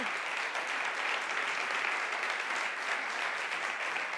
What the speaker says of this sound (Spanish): Pues muy bien, un aplauso para Iñaki.